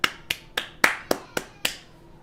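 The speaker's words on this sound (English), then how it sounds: "We're clapping for Ticino." Seven sharp hand claps ring out in a steady rhythm, close and crisp with short decays, clapping for a player during an NBA 2K23 basketball video game session.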